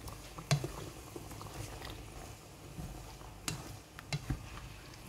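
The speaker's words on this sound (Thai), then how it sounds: "บาดนี่ใส่น้ำบักพร้าวไปแล้วเฮากะผัด" Chicken and coconut water are stir-fried in a pan for a mushroom tom yum, heard as faint, scattered scraping taps and soft sizzling at a quiet, irregular pace.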